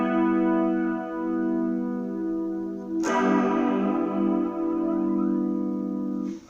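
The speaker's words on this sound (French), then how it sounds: "on peut utiliser un flanger en mettant un petit peu moins de trucs" An electric guitar run through a flanger set up to stand in for a phaser: sustained strummed chords with a sweeping, swirling comb-filtered shimmer, then a fresh strum midway that keeps sweeping and ringing.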